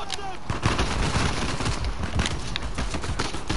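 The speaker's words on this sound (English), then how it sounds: "They're again shooting at me." Enemies open fire in Uncharted 4 with rapid, sharp gunshot cracks in quick overlapping bursts. The shots continue steadily and loudly for the whole stretch.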